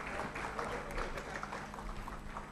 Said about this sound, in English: round of applause for Mohammed